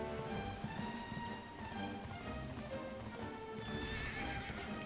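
A horse in Dragon Quest 11 whinnies loudly while its hooves clip-clop at a steady trot, with game music running underneath throughout.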